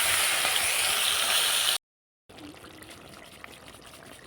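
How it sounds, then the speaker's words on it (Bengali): Snakehead fish pieces fry in hot oil with a bright, dense sizzle that cuts to silence partway through, then continues as a quieter, softer bubbling fry; no talking. "তেল গরম হয়ে গেছে, মাছগুলোকে আমি দিয়ে দিচ্ছি।"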